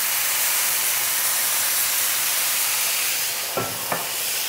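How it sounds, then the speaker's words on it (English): Loud, continuous hiss and sizzle of tap water steaming in a hot pan with mushroom steaks, with a couple of faint clicks near the end. "So that steam will help cook them."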